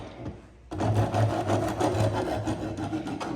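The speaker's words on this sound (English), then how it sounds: "we're gonna sand it down so it's smooth, so it's more comfortable and it bends more easily" A wooden bow hand-carved from a tree being sanded smooth: after a brief quiet moment, rapid rhythmic rasping strokes start up close and continue steadily.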